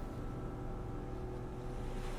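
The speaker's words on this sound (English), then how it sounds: "Is the song of the sea and its lulling waves not enough to placate you?" Sea waves lapping at sea, a steady low wash and rumble of water with a faint windy hiss, continuous and unbroken, no voices.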